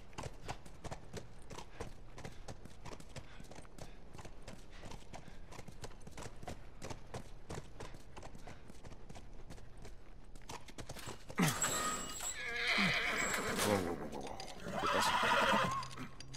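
Horse hooves clip-clop steadily at a walk in The Last of Us, then a horse neighs and whinnies loudly near the end, with other game sounds mixed in.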